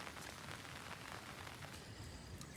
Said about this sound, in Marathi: हे बघा झिमझिम असा पाऊस पडतोय